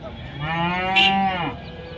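A cow at a cattle market gives a single long, loud moo lasting over a second, close by and rising slightly before trailing off.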